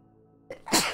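A single sharp human sneeze, a quick intake followed by a loud explosive burst, close and clear against a faint background hum.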